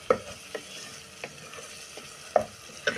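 Onions and garlic frying in a pan for green beans and rice, a soft steady sizzle with a few sharp scrapes of stirring scattered over the clip, close and fairly quiet.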